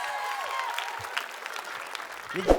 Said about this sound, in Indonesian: Tepuk tangan sekali untuk Corner Parodis.